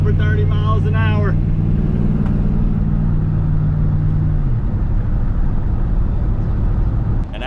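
A Ford F150 truck drives at over 30 miles an hour, its engine a steady low drone beneath constant road and wind rumble, with a voice briefly heard at the start.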